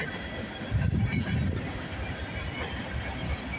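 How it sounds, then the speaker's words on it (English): A long CN freight train rumbles steadily past close by at Bronte Street in Milton, Ontario, wheels clattering and metal squealing faintly over a continuous low roar. "Oh my god, this train's pretty long."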